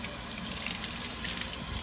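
Hot water runs steadily from a tap while dyed yarn is rinsed, a constant close rushing hiss with no pauses or voices.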